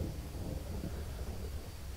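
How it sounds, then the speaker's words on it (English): Low rumbling thunder with rain building in a jungle survival game, a steady dense roar that fills the whole clip without any voices. "Oh, the rain is coming."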